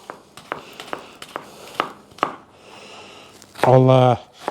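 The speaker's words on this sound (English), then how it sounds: "Now just finely chop your onions." Knife chopping onions on a cutting board, a series of sharp close taps at an uneven rhythm, followed by a brief burst of voiced sound near the end.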